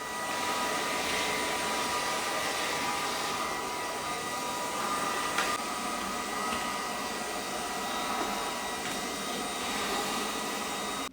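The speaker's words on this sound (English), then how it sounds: "But let's try it out on the corners, and we're using the Crevice-Tools as well." A Vexilar V12 cordless vacuum with its crevice tool attached runs along corners, giving a steady, loud, close whine with faint shifts in tone as it moves, and no one speaks.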